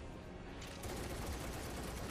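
Barret firing his gun arm in Final Fantasy VII, a quiet, dense, continuous rattle of rapid gunfire with no talking.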